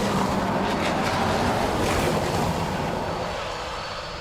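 ATR turboprop aircraft engines at Dublin Airport, a steady, fairly loud propeller and engine drone that slowly fades over a few seconds, with no talking.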